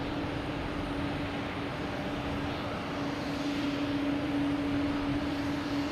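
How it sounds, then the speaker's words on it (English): Delta Airbus A220 jet taking off at Boston Logan Airport, a faint, steady engine roar with a sustained tonal whine, slowly growing a little louder over several seconds. "And we have a Delta taking off, an A220, heading to Austin, flight 1677."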